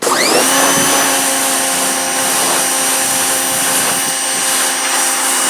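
A Powerplay Spyder 2000 PSI pressure washer runs loud and close as it cleans deck boards. Its motor whines up at the start, then holds a steady, continuous roar with a spraying hiss.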